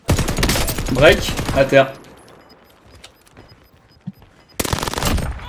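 Automatic gunfire in a French-played online battle royale shooter, bursts of rapid shots ringing out under excited voices, then a quiet stretch before another loud burst at the end.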